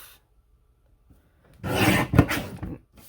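A paper trimmer blade slides once through plain white cardstock in a single loud, rasping stroke after near silence, with a faint tap at the end.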